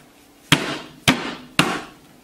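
A hammer strikes three times at an even, unhurried pace while tapping a part into place, each blow sharp and close with a short ringing decay.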